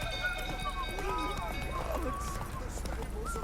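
Roach, a horse in The Witcher 3 video game, trotting with quick, steady hoof clip-clops, heard faintly under background music and speech.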